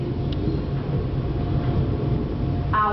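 A CPTM Line 11 Coral commuter train runs between Tatuapé and Luz in São Paulo, a steady low rumble of wheels and motors heard from inside the car, with a faint tone near the end.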